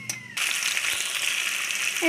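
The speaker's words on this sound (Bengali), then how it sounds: "কলা আলু কড়াইয়ে দিয়ে দিয়েছে, আর নিরামিষ তরকারি করবে।" Plantain and potato pieces hit hot oil tempered with five-spice in a wok, setting off a sudden, steady hiss of frying that stays fairly loud and close for about two seconds.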